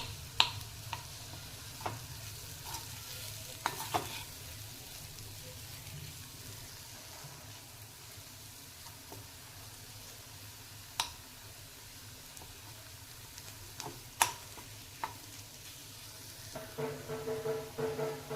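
Potatoes being crushed and stirred in a frying pan for batata bhurji, with intermittent scraping clinks of a utensil over a low, steady sizzle, close and fairly quiet.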